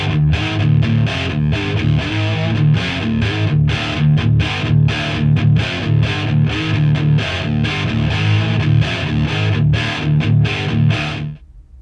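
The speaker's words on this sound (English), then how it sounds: "you picked up a vintage amp, and it sounds like this." Electric guitar played through a classically voiced vintage amp, a steady strummed and picked passage with crunchy overdrive, loud and continuous for about eleven seconds before stopping abruptly.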